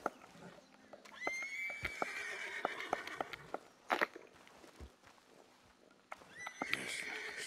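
A horse neighs loudly in Red Dead Redemption 2, with shrill whinnies recurring among clip-clop hoofbeats and game sounds across the scene.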